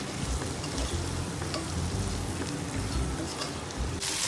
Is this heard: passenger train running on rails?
no